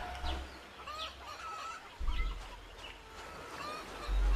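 A chicken in a video game clucks in short bursts several times, fairly clear over a low background hum with no talk.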